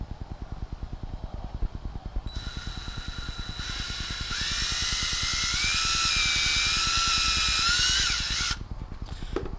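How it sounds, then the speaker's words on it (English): A power drill whines steadily, pre-drilling a pilot hole in an edge, its pitch rising and wavering as it bites in, over a constant rhythmic mechanical thrumming, then stops abruptly near the end. "I'm going to go ahead and just kind of pre-drill a hole right here in the edge of this."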